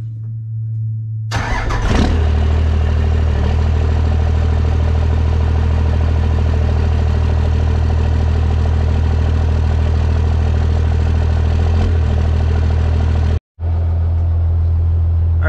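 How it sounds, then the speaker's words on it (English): Cummins diesel in a station wagon cranks and fires after about a second of quiet, then settles into a steady, loud, rumbling idle that runs on, with a brief dropout near the end. "let's give the Cummins a little cold start"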